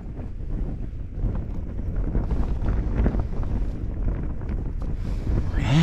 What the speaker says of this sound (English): But this wind, oh, listen to it.